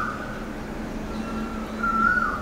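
An Asian koel gives a single rising whistled call toward the end, fairly faint and distant over a steady low hum of household noise on a humid Mumbai morning.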